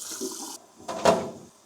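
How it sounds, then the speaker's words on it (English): Hot water poured from a kettle into a jug while diluting cleaner for soaking a disassembled Amal carburettor; a brief hiss of running water, a pause, then a louder close splash and trickle. "So I'm gonna put some hot water"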